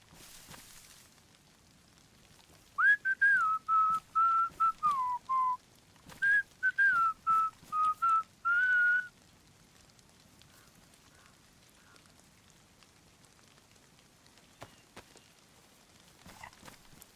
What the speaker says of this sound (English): Use my fox whistle.